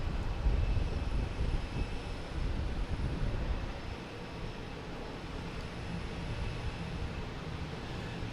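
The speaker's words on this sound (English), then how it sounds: "there's a bunch of planes lined up for landing here now" Airliner on approach to land at Boston Logan Airport, a steady, broad engine roar at moderate distance sustained throughout without speech.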